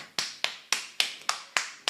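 Hands tapping on the body, a quick even series of about eight sharp slaps roughly a quarter second apart, close and crisp, with no talk.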